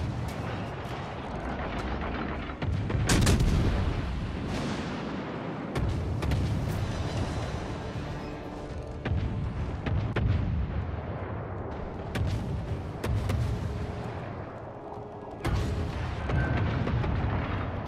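Warship cannon fire in the naval game World of Warships Legends, repeated heavy booms and blasts at irregular intervals over a constant low rumble of sea and engine noise.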